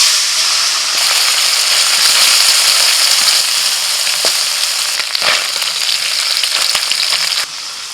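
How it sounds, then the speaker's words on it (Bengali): Small tok fish fry in hot oil, a loud, dense, continuous crackling sizzle with bursts of popping spatter, heard close and without talk. "তেল গরম হয়ে গেছে, এবার মাছটা ভেজে নেব।"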